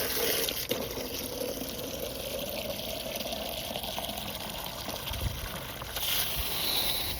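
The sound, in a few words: water filling chick waterer under pressure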